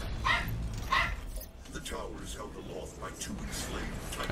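A dog in the room gives two sharp barks near the start, followed by softer yips and whimpers, with talk running over the sounds.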